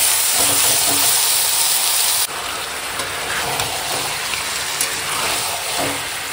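Chicken pieces fry with sour yogurt in a pan, giving a loud, steady, close sizzling hiss throughout that eases slightly partway through and carries on without talk.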